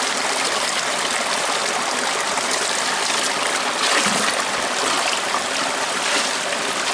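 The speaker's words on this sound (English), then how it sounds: "This should just be water." Water poured through a hole in a gold pan, running as a steady, loud broadband wash close to the microphone for the whole stretch with no talk over it.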